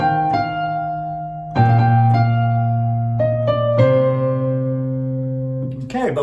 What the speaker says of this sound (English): So if I just do it like it would be on a regular piano, it might sound something like this.